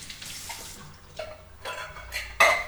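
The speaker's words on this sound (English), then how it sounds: "pour all the liquid into the crock pot or your pot" Liquid from canned stewed tomatoes splashes and trickles into a crock pot while chili is being made, with soft pouring and a few wet clinks building to a brief louder splash at the end.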